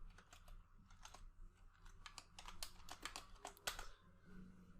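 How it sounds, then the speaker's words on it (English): A computer keyboard is typed on steadily while entering code, with quick bursts of soft, close keystrokes and short pauses over a faint background hum. "So first of all I am going to type here const get all movies method, and I simply type here async"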